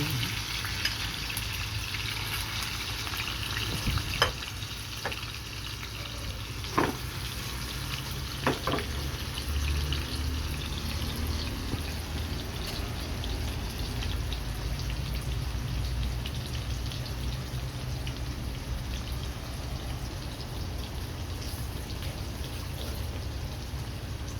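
Continuous crackling sizzle of food frying in a pan, steady throughout with a few sharp clinks early on.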